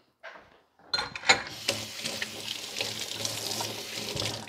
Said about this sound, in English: I'm going to put these in the sink so I can wash them.